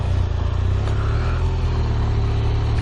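Motorcycle engine droning steadily during a test ride with the helmet visor open, a constant low rumble mixed with wind noise, loud and close, no talking.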